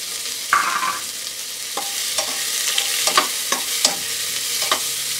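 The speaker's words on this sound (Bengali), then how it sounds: "এখন দিয়ে দেবো পেঁয়াজ কুচি।" Chopped onion sizzles in hot oil with fried whole garam masala spices and cardamom for vegetable bhuna khichuri, a steady frying hiss broken by several sharp spoon stirs and scrapes against the pot.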